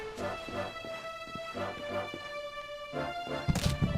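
Clay pots break inside a shed in the Dragon Quest XI video game: a run of light knocks over looping game music, ending in one louder, sharper smash.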